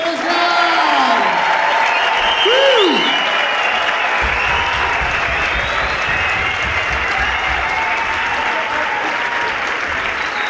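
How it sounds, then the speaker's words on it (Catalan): A large audience at a children's cantata performance applauds loudly and continuously, dense clapping filling the hall, with a few whoops and cheers rising above it early on. "Vinga, per ells, un aplaudiment més gran!"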